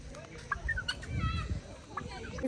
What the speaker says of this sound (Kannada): ಇದು ಟರ್ಕಿ ತಾನೇ ಇದ್ರ ಹೆಸರು?